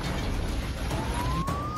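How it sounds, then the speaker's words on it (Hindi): Air raid siren sounding across the city during a missile strike, a single rising wail heard at a distance over a loud, rushing background. "हवाई हमले के चलते पूरे शहर में सायरन बजने लगे"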